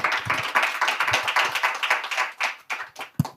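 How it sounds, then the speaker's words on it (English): Conference audience clapping, dense and sustained, with the applause thinning toward the end and a few last scattered claps. "Please welcome him with a big round of applause."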